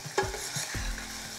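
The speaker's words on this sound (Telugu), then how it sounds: "ఉల్లిపాయలు 1 నిమిషం వేగిన తర్వాత ఒక పెద్ద సైజు టమాటాని ముక్కలా కట్ చేసుకొని వేసుకోవాలి." Chopped large tomato dropped into a pan of frying onions, a brief clatter of pieces landing followed by a low, quiet sizzle, close by with no voices.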